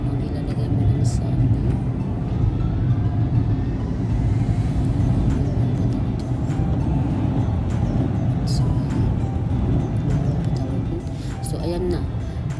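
A car wash air dryer blows steadily and loudly over a car in a continuous rushing roar that holds for the whole stretch, with a few faint knocks and a voice talking underneath.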